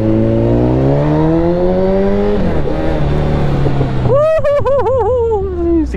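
A Honda CBR1000RR sports bike engine idles with a steady low hum, then revs sharply in repeated rising and falling bursts, loud and close.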